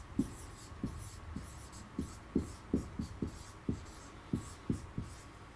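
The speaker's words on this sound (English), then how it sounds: "Let me write that." Pen or marker writing out an English expression on a board, a series of about a dozen short, sharp strokes and taps in an uneven rhythm, close and clear, with no talk.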